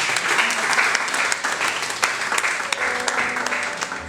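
An audience at a gospel business breakfast in Togo claps steadily for about four seconds, a dense and even wash of applause with a few sharper individual claps standing out.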